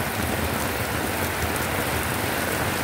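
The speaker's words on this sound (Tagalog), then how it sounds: "patuloy pa rin ang pagbayo ng ulan dito sa Nueva Ecija sa ating barangay" Heavy rain pours steadily onto rice paddies in a barangay in Nueva Ecija, a dense continuous hiss of falling water with no pauses and no talking.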